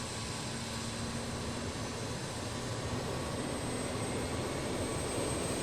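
Engine 3 of the JustFlight 146 airliner spools up in a flight simulator, a steady broadband jet whine and rumble with faint tonal hums, continuous and even throughout.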